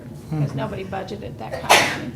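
One sharp, loud sneeze bursts out near the end of a meeting room discussion, coming just after a man's speech about budgets.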